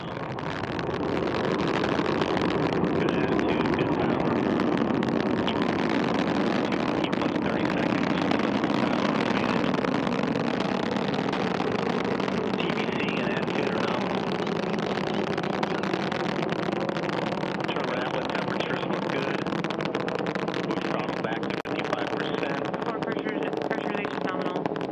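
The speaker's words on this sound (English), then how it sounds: "Liftoff confirmed. Antares and the SS Gene Cernan now bound for the International Space Station." An Antares rocket lifting off carrying the SS Gene Cernan to the International Space Station gives a continuous broad, distant roar that stays steady throughout, with a voice talking over it.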